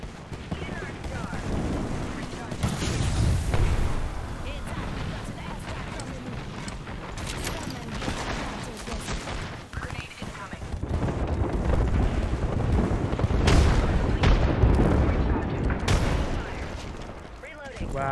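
Frag grenade explosions and heavy gunfire in the video game Apex Legends, a dense, continuous barrage of booms and shots running under game chatter and voice callouts throughout.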